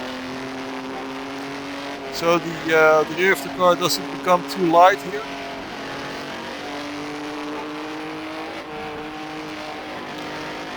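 Engine of a 1950s Formula 1 car running through gears on the Pescara road circuit, with a steady drone and a burst of rising and falling revs mid-clip, under a voice talking throughout.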